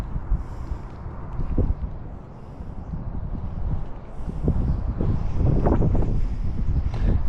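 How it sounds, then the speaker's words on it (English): Steady wind roars and buffets the microphone beside a small clear pond while bass fishing, a loud continuous rumble that rises and gusts harder toward the end. "The wind is killing me, man."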